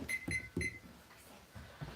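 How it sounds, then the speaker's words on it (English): A kitchen timer gives three short, bright electronic beeps in quick succession while a pan-seared, oven-baked steak is cooked, followed by faint, low kitchen clatter nearby. "We'll reset my timer for maybe,"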